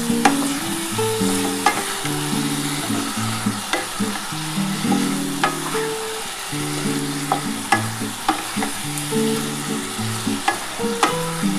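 Potato and ridge gourd frying and being stirred in a pan with poppy seed paste, a steady close sizzle broken by repeated sharp scrapes and clinks of the spatula against the pan, with no talking.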